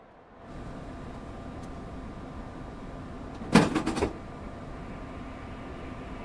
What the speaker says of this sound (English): what we can do is go and open the door